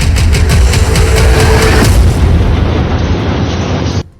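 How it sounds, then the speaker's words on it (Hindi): Explosions from Israeli bombing in Gaza: loud, rumbling booms roll one into another in a dense, heavy barrage that cuts off abruptly at the end. "गाजा जल रहा है, इंच दर इंच इजरायली सेना बारूद बिछा रही है, धमाके पर धमाके हो रहे हैं"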